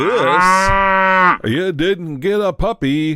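A loud, drawn-out cow moo sound effect of about a second and a half, followed by someone speaking.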